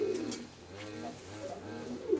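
Pigeons coo repeatedly at close range with soft, throaty calls, in a pigeon loft in Ukraine. No one speaks.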